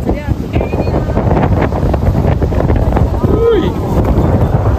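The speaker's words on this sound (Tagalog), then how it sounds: "Uy, kausod sa hangin." Strong, cold night wind in Seoul, South Korea buffets the microphone with a continuous loud roar and rumble, with a brief voice rising above the gusts.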